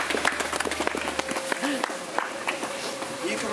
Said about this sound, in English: Round of applause here, folks.